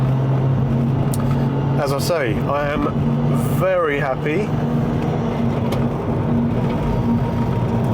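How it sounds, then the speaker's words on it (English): A Porsche 996 with a Hartech engine and new exhaust rumbles steadily close by with a deep, even engine note, while someone talks over it for part of the time. "There's my new exhaust."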